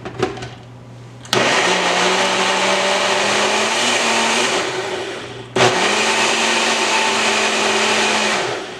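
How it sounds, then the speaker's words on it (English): A kitchen blender whirs loudly through bell pepper and water in two bursts of several seconds each, with a short pause between them and the motor pitch shifting slightly as it runs. "So I blended it, and I'm going to set it aside"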